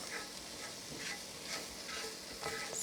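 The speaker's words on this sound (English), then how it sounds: "Next, we're going to put in our spices. And you want your spices to cook in the oil" Spices sizzle and crackle steadily in hot oil in a pan for samosa meat filling, a continuous close frying hiss with small pops and stirring scrapes, no voices.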